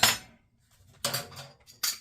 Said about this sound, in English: Glasses on the floor, that's not good.